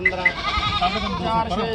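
A goat bleats repeatedly, nearby and fairly loud, at a goat market, mixed with other animals and people talking in the background.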